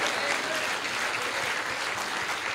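Dense, loud applause from a church congregation at a Pentecost service, steady and continuous throughout.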